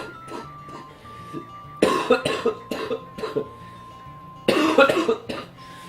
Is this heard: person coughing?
yes